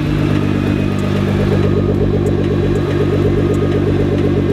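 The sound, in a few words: Nissan GT-R engine valves working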